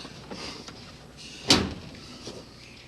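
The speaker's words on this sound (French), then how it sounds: "Bon, ça va, ferme-la ta porte" A car door swings shut with one solid, close thud in the middle, surrounded by a few faint rattles and knocks, and no voices.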